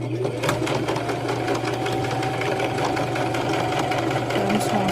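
A sewing machine with its thread tension acting up stitches continuously at steady speed, a close, rapid mechanical whirring and knocking hum running without a break.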